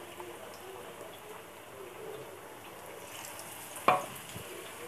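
Batter-dipped egg pieces fry in hot oil with a steady, close sizzle that runs throughout, broken once by a brief clatter near the end.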